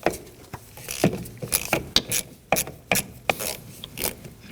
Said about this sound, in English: I'm going to use a socket to remove that.